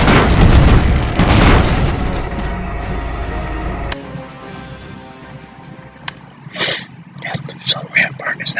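Grenade explosions in the 2D steampunk game Airships: Conquer the Skies: a loud, rumbling boom that decays over a few seconds, then scattered smaller pops and bursts, with a person talking over the later part.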